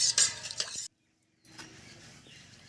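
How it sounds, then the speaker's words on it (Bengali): Spoon stirring sugar into water with fruit for a homemade sherbet, giving soft clinks and scrapes that are dense at first, then a brief silence, then quieter continued stirring. "এবার আমি কিছুক্ষণ চিনিটা যতক্ষণ না গলবে নাড়তে থাকবো"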